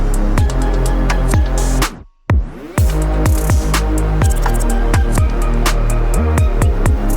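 An alternate R&B dark pop section plays, with punchy repeating drum hits, deep bass and dense layered synths, loud and continuous, dropping out briefly for a short break before resuming.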